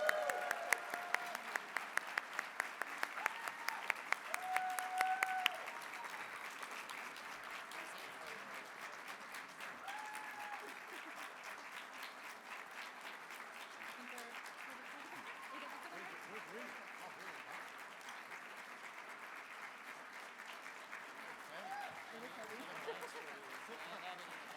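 Sustained audience applause at a political gala honoring Congressman Chu Garcia, dense clapping from a large crowd that starts loud with a few sharp peaks, then settles into steady, slightly softer applause that carries on throughout.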